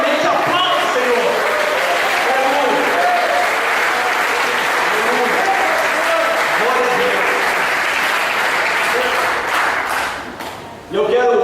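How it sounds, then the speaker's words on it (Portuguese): A church congregation at a missions service claps loudly and continuously, with voices calling out and singing over the dense applause before it briefly dips near the end. "aplaude o Senhor"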